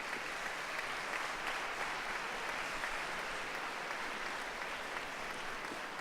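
A concert hall audience applauds a regional culture official at an orchestra competition, a broad, even wash of many hands clapping that holds steady and moderately distant throughout, with no talk on top.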